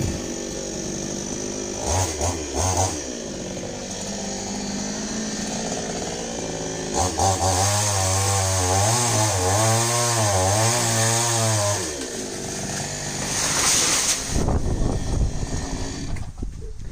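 A chainsaw cuts through a tall coconut tree behind a house, its engine droning steadily and loudly with revving surges and a sustained wavering whine through the middle.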